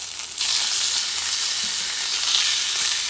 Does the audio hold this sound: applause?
no